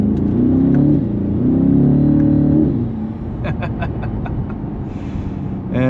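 A 2026 Chevrolet Corvette Stingray Z51 with its 6.2-liter V8 pulls hard in second gear, a loud rising engine note that climbs and then settles into a steady roar under wind and road noise, with voices present.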